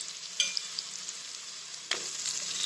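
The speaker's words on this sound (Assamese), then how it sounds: "এতিয়া তেলটো ফুটি আহিল আৰু ইয়াতে মই কণ বিলাহীখিনি দি দিম" Small whole cherry tomatoes dropping into hot boiling oil, a soft steady sizzle with a sudden louder burst of frying partway through, close and alone.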